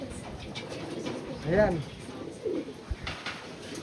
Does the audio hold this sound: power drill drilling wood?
no